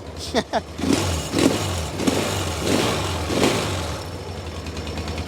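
A Yamaha XS650 motorcycle engine revs up close and loud in a few rising blips, then settles into a steady throbbing run, with a voice talking briefly over it.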